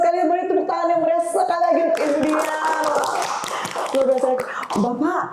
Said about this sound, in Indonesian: beri tepuk tangan yang meriah sekali lagi untuk India